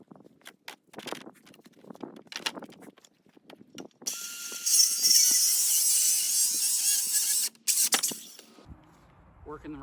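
A Ryobi power tool shaves down a hanging 2x board while building a crawl space door: a loud, steady, high-pitched whine of about four seconds. Talk and scattered knocks come before it, and a short burst follows.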